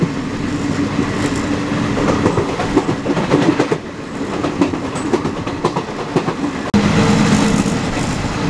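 Bhagirathi Express rolling on the rails between Murshidabad and Kolkata at dawn, a loud continuous rumble with rhythmic clickety-clack of wheels over rail joints and a brief dip and jolt near the end.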